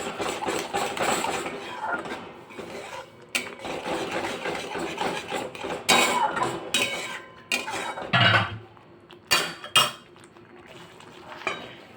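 Spices being stirred together in a bowl for Kutchi kadak, red chilli powder and Kutchi kadak masala among them, with repeated close clinks and scrapes of a spoon against the bowl in irregular bursts.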